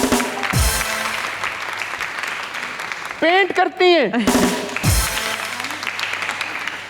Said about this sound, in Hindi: अभी तालियां रुकेंगी नहीं।